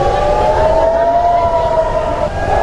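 Air raid warning sirens sounding across Tel Aviv during an Iranian missile attack, a steady, loud, sustained wail that holds a constant pitch throughout with continuous background noise underneath.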